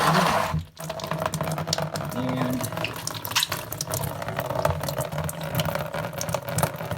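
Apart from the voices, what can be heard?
water draining from washing machine drain hose into tub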